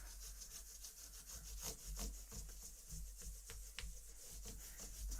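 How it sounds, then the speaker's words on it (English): Fine-grit sandpaper, around 1,200 grit and finer, rubs back and forth in quick, rhythmic strokes while polishing a surface by hand, a soft, close scratchy swishing with no talk. "I'm just polishing them out, trying to get it to look good."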